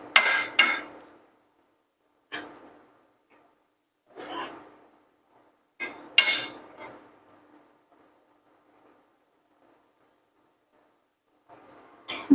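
A spoon stirring thick gravy with an added vegetable in a cooking pot, heard as a few separate scraping and clinking strokes, close and fairly soft, with quiet pauses between them.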